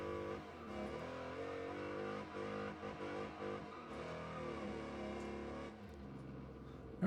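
Race car engines in Wreckfest 2 rev and accelerate hard through gear changes, a loud close droning whine that rises and dips steadily without any talk.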